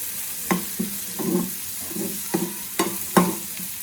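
Dried vanjaram fish frying for thokku, with a steady sizzle broken by several sharp scraping stirs of a spatula against the pan, close and moderately loud with no talking.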